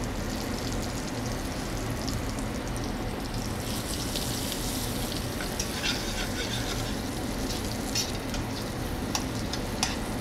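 Seasoned potatoes with salt and black pepper browning in a restaurant pan, a steady soft sizzle and frying crackle with occasional light ticks, close and continuous without talk.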